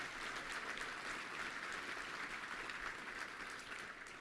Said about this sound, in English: Let's give a big round of applause to Debbie and all of our volunteers.